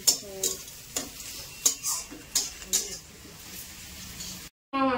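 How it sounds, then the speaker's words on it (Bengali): Onions fry into birista for biryani, a light sizzle broken by a run of sharp stirring clicks and knocks against the pot. A brief voice follows a short silence at the end. "এখন কি বেরেস্তা ভাজা হচ্ছে?"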